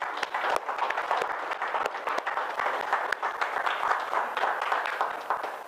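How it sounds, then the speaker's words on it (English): A round of applause for the leaders fills the room, dense steady clapping from a crowd that carries on throughout with sharper individual claps standing out. "I'd like to give you guys a round of applause."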